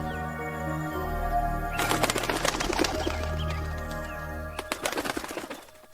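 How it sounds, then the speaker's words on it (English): A bird coos in a fantasy cartoon setting, with steady low hum beneath and bursts of rustling, flapping-like noise in the middle and near the end. "What's with that bird?"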